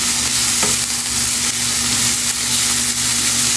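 Green seasoning, pimentos, garlic and onion sizzle steadily in a hot pan, a dense, even frying hiss with faint stirring scrapes, close and loud and uninterrupted throughout.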